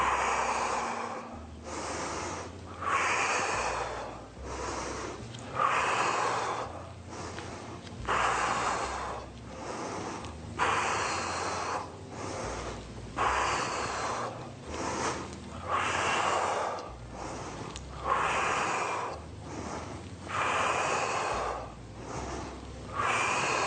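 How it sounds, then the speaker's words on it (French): Heavy exercise breathing during a bodyweight muscle-building workout, about a dozen loud rhythmic inhale and exhale cycles with forceful blown exhalations, close and steady with no talking. "On inspire sur la descente et on souffle sur la montée."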